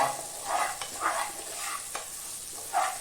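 Koorka (Chinese potato) stir-fry with onions sizzles in a pan while a spoon stirs it in soft, irregular scraping strokes close by.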